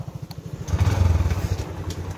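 A motorcycle engine idles nearby with a rapid, even chugging pulse that swells slightly louder partway through, with no talk over it.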